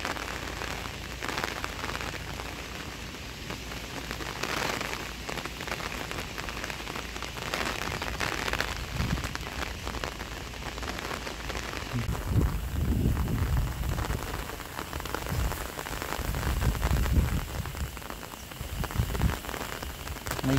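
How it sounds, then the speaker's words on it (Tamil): Heavy rain batters surfaces during Cyclone Fengal in Tamil Nadu, a dense unbroken roar of falling water with low wind buffeting that grows stronger in the second half. "காற்று மழைன்னு அடிக்கிறதுனால கிளாரிட்டி கூட ஒன்றுமே இல்லை."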